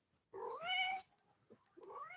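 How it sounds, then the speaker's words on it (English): A house cat meows loudly and close by, one long rising-and-falling meow followed after a short pause by a second, quieter meow. "Sorry, my cat is now arrived."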